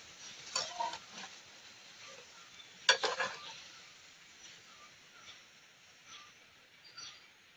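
Pieces of motai sweet dough frying in hot oil, a steady close broadband sizzle with crackling bursts and a sharp splash-like spike near three seconds as more pieces drop in, no talk.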